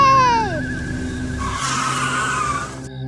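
A car braking to a sudden stop, its tyres skidding and squealing loudly for a couple of seconds before cutting off abruptly.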